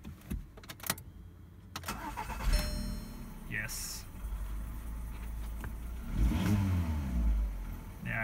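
A Seat Leon's engine turns over, catches and revs up, heard from nearby with a bright ding-like chime and scattered handling noise, while someone briefly says a word.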